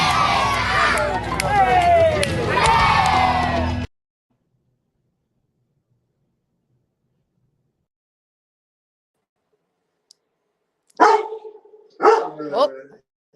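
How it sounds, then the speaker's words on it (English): A dog barks wildly in dense, rapid bursts over a few seconds of loud commotion. Silence follows, and then a person speaks near the end. "my dog is going wild"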